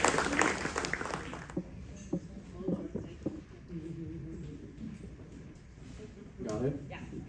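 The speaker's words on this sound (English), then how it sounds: "give them a round of applause." Live audience at a Friday the 13th horror night comedy game show bursts into applause for about a second and a half, then voices take over and talk continues.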